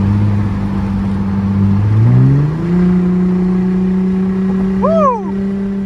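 Car engine and exhaust on an expressway: a loud, steady drone that climbs in pitch as the engine revs up and holds, then a brief vocal whoop rises over it near the end.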